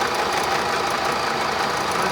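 An Austin-Healey four-speed overdrive transmission runs on a test rig at about 2,500 RPM, giving a steady, loud mechanical whir and hum with no change across the short stretch.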